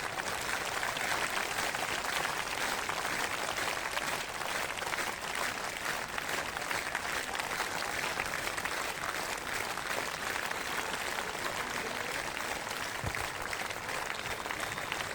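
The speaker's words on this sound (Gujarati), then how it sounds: "એ તાળી તો પાડો" A crowd of devotees at a religious gathering keeps up steady, dense clapping, a continuous rhythmic wash of hands with faint voices underneath.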